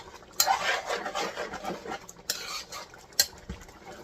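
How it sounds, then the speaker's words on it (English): A spoon scrapes and rasps against the bottom of a pot of dinuguan (black pork blood stew) that is sticking, with short stirring strokes and a few sharp metallic clinks, close and fairly quiet. "I'm scraping the bottom because it's kind of sticking right now."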